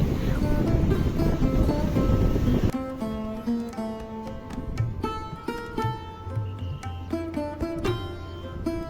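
Ocean surf at Kanyakumari beach roars as a loud, broad wash for about three seconds, then drops back beneath steady tonal background sounds and faint distant activity.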